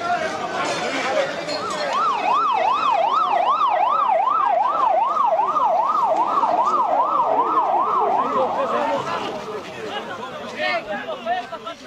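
A fire engine's wailing siren sweeps up and down in rapid, regular cycles for several seconds, loud and fairly close, at a street scene near a 1985 Anderlecht versus Bruges football match, with crowd chatter and people talking underneath.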